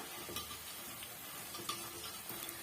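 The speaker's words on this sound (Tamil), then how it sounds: "இப்போ இந்த பபுள்ஸ் எல்லாம் ஓரளவுக்கு அடங்கி வரட்டுங்க அது வரைக்கும் நம்ம வேக வச்சு எடுத்துக்கலாம்" Pakoda frying in hot oil, a dense steady sizzle and bubbling with a few faint spoon scrapes and clicks, close and continuous with no voices.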